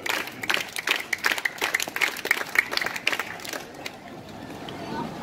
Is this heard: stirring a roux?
no